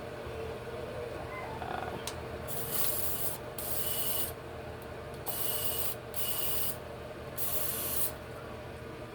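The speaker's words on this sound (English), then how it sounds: "I'm going to take my lace bond adhesive. I'm going to spray it inside the cap." Lace bond adhesive sprays into the inside of a wig cap in several short hissing bursts, each about a second long and separated by brief pauses, close up against a quiet room background.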